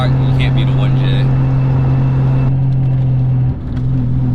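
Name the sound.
1JZ-GTE engine of swapped Lexus IS300 with T56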